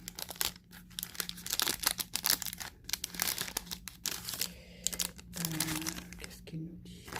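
Sheets of crumpled-effect paper are handled and crinkled while unboxing a creative studio box, with sharp, irregular rustles and crackles near the microphone mixed under someone speaking French.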